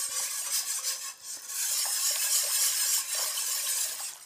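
A wooden spoon scrapes and swirls through broccoli cheddar soup in a pot, a steady soft rasping stir with brief pauses, close and alone with no talking.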